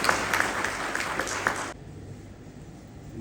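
An audience at an animal health summit gives a chief guest a short burst of clapping, moderately loud, which stops sharply halfway through and leaves quiet room tone.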